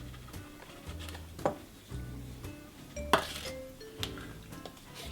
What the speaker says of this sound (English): into our bowl we're going to put our butter